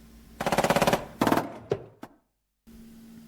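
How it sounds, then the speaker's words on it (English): Gunfire crackle as an audiobook sound effect, a rapid burst of automatic shots followed by a second shorter burst and two single reports, then silence and a low hum. "a second, more distant crackle of gunfire erupted"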